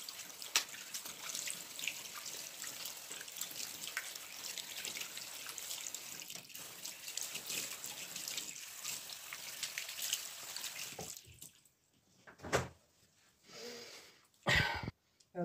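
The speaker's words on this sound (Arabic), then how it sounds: "بعد ما غسلت يديا مزيان" Tap water runs steadily while hands are washed under it at a sink, a continuous near splashing wash that stops abruptly, followed by a few short bursts of water and movement.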